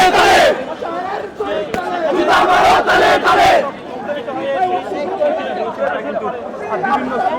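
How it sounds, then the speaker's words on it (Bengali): Dhaka University students chant slogans against doctors of Dhaka Medical College: a loud crowd roars in rhythmic bursts for a few seconds, then settles into a dense, agitated murmur of many voices. "ঢাকা মেডিকেল কলেজ যে চিকিৎসক যারা রয়েছেন তাদের বিরুদ্ধে স্লোগান দিচ্ছেন"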